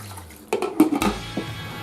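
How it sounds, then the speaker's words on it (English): Water splashes and gurgles briefly into a tagine pot over carrots, fennel and seasoning, close and moderately loud, in short bursts lasting under two seconds. "pour some water"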